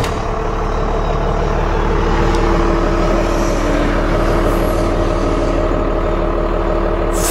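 A 1997 Dodge Ram 2500 SLT with a Cummins diesel and five-speed manual runs at a steady, loud idle, a dense low rumble with constant clatter that holds throughout, no voices.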